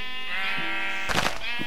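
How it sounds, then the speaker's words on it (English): A sheep in the Minecraft video game bleats twice in quick succession, a clear, close, wavering baa followed by a shorter one. "so let's take out a sheep or two."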